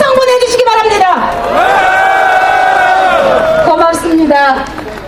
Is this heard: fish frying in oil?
no